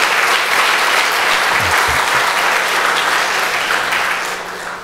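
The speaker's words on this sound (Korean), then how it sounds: "그냥 박수 한번 해주시기 바랍니다." Church congregation applauding during a Sunday service, warm continuous clapping that fills the room and tapers off slightly at the end.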